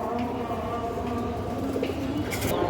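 A Musol breed female pigeon coos in low, throaty tones among other birds, steady and close, with soft rustles and faint background noise throughout.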